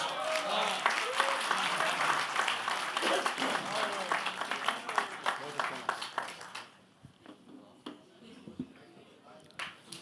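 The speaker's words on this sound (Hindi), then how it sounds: "तालियां भाई जोरदार" Mushaira audience applauding a poet, a dense wash of many hands clapping loudly for about seven seconds, then thinning to scattered claps under murmuring voices.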